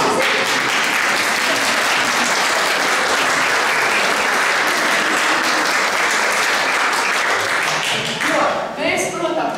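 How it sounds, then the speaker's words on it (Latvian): An audience applauds at a choir concert, with dense, sustained clapping at a loud, even level for several seconds before it thins out near the end. "Aplausi."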